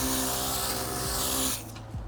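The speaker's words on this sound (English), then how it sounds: "It's just like a little humming from the machine, and only when you are spraying." An IK Foam Pro 2 electric foamer hums steadily with a soft spray hiss while spraying, then the motor cuts out and the sound drops away, leaving only faint room noise.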